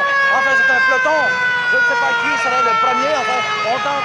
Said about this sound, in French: Ici, c'est la sirène.